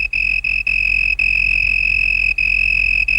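A male cricket chirps by vibrating its wings against a leaf that acts as a soundboard, giving a loud, steady, high-pitched trill broken by a few brief gaps.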